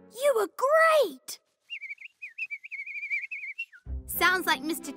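A cartoon pet bird chirps a quick, bright run of whistled tweets, close and clear, set between stretches of animated character speech before and after.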